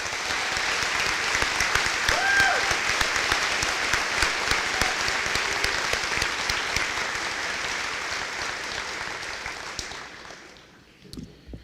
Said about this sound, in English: I'd like to give those 3 individuals a nice round of applause.